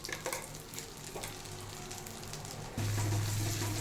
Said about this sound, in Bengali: মশলাগুলোকে ভালো করে আমি ভাজা মশলা করে নেব, ভেজে নেব মশলাগুলোকে